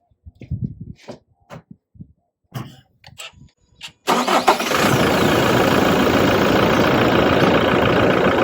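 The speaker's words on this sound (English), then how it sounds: "So I'll go and fire up the car now" Toyota Hilux N80 engine cranking and catching after a few clicks and handling sounds, then settling into a steady, loud idle that continues to the end.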